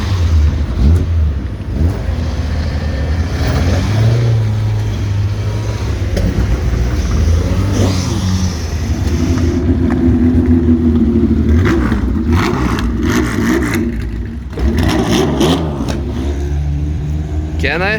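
Classic race cars rev their engines on the way to the pre-grid, loud and close with repeated throttle blips over a steady idle, while a person talks throughout.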